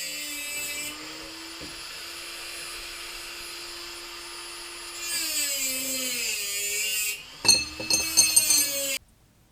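A drill bores 1/2 inch holes in square steel tubing, a steady whining spin that shifts pitch as the bit bites, ending in louder grinding bursts before stopping.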